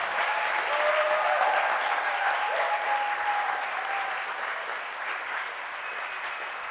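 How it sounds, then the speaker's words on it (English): Steady, full applause from a crowd at a New School design exhibition in New York fills the room, dense and sustained with a faint whistle-like tone threading through before easing slightly toward the end. "let's give a big round of applause for our first half"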